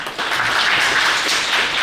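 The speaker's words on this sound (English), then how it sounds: "She deserves a big round of applause." A college audience at a formal event applauds the principal, a dense, even wash of many hands clapping at once, loud and sustained.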